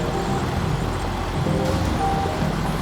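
A Mack Pinnacle heavy truck in the video game SnowRunner cruises in high range, its diesel engine giving a steady, even low rumble that holds at one level throughout.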